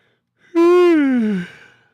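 A single long, loud yawn from a man, rising with a tonal voiced drawl that slowly falls and trails off into a breathy exhale, heard close and alone.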